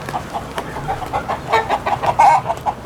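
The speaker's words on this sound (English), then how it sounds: "God damn it, these roosters, they just don't stop." Roosters crow and cluck on and off, with repeated calls rising and falling in a steady run. They sound fairly close and loud, and nobody speaks over them.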